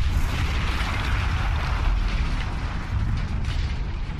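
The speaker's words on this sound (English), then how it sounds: "That explosion was one of the sweetest sights of the war for me." A deep, rumbling explosion in the World War I shooter Battlefield 1 fills the whole clip as a dense, sustained roar with no talk.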